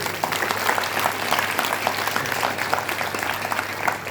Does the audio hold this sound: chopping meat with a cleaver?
no